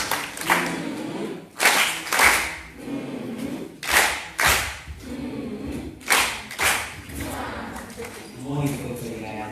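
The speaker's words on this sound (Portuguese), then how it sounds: "peço uma salva de palmas para todos nós" A group at a children's summit in Mozambique claps in a rhythmic pattern, with sharp bursts of clapping recurring in regular sets and voices heard between them.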